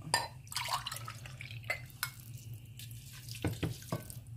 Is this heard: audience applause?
no